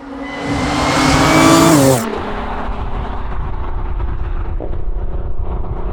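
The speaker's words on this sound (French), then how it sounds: "C'est dès que t'appuies sur l'accélérateur, on n'arrive plus à parler." Audi S4 B8 engine revving hard under acceleration, a loud rising roar that peaks and drops off abruptly after about two seconds, leaving a steady cabin drone at lower level.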